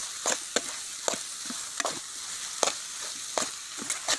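Gongura sorrel leaves sautéing in a pan for a chicken dish: a steady soft sizzle with a spoon scraping through in repeated quick strokes, about eight sharp stirs over four seconds, close and moderately loud.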